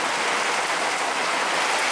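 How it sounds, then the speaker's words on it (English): Steady rain comes down outside in a close, uniform patter and hiss, continuous throughout and free of talk. "Ooh, feel the rain."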